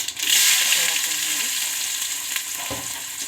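Mustard seeds, cumin and onion sizzle in hot oil in a pan for a Kannada-style black-eyed bean and dill greens stir-fry, a steady close crackle with a brief stirring scrape near the end.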